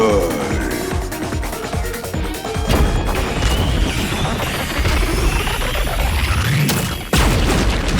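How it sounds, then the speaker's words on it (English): Loud fireworks bursting in a dense, continuous barrage of booms and crackles, with some whistling rises and a sharp blast near the end, mixed with other sound. "Ooh, fireworks!"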